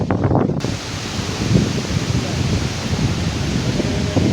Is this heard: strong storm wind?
yes